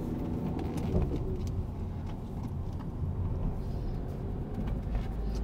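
A car accelerating during a driving lesson, its engine giving a steady low rumble and road noise throughout with no talk over it.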